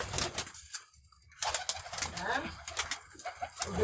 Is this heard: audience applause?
no